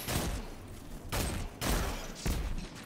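Heavy hand cannon shots in Destiny, a 120 RPM Round Robin, fired four times at a steady spacing, each a loud booming crack close up, no voices.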